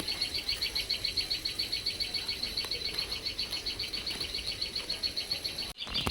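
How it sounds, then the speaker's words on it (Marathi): Rapid, steady high chirps repeat continuously, a sparrow calling nearby from a tree, with faint outdoor background and a brief knock near the end. "आई म्हणजे ती चिमणी ओरडते"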